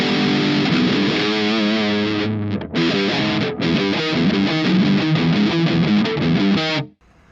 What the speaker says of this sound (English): So this is the Grim 3 overdrive.